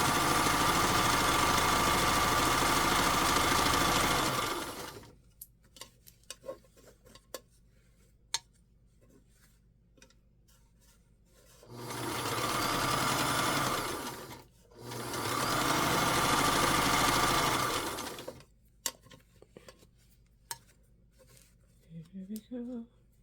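A vintage Kenmore sewing machine topstitches straps in three runs of fast even whirring stitching, one long burst and then two shorter ones, with quiet clicks and handling noises during the pauses.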